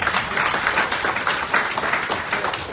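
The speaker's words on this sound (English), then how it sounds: "Go clap!" An audience claps at a Sierra Leone presidential visit to the Rokupr Agricultural Research Centre, a dense, steady patter of many hands sustained at moderate loudness throughout.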